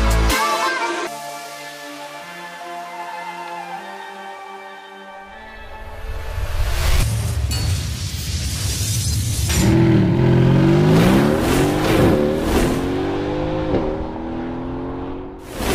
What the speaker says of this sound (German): So, jetzt können wir mal Knallgas geben